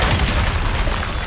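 Bombarda blasting spell explosion in Hogwarts Legacy, a deep booming blast that fills the whole moment with dense low rumble and crackle, loud and close, with no talking.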